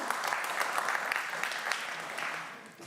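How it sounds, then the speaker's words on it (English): A conference audience at a developer talk applauds the organizers, a steady wash of clapping from many hands that holds briefly and then fades out. "So let's give them a round of applause."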